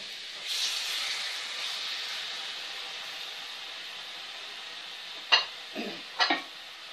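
Meat for kebab maghdour sizzles in hot olive or vegetable oil: a steady, close hiss with no voices, broken near the end by a few sharp clatters.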